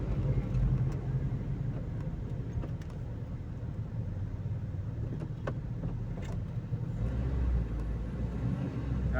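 Road traffic in Manila on the way from Mandaluyong to Sampaloc via Shaw Boulevard: a steady, dense rumble of vehicle engines and tires that holds for the whole stretch, with faint scattered horn-like accents and no talk.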